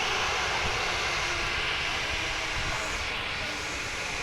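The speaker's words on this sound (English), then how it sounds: "Interesting engine sound from the Pegasus plane there" A Pegasus airliner's jet engines roar steadily at Manchester Airport, a loud, continuous broadband rush that stays level throughout with a slight dip near the end.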